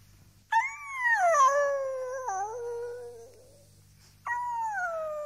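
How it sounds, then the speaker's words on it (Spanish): A dog howls mournfully in long, wavering, drawn-out cries, one sustained howl followed by a pause and then a second beginning, clear and close against near silence. "Persistían los aullidos lastimeros."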